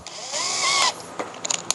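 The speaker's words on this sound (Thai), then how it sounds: "ผมจะเจาะแผ่นบนให้เป็นแหวน" A power drill spins up in a short whirring burst as it bores into a wooden board for a pet house, followed by a few light clicks and taps, close and without talk.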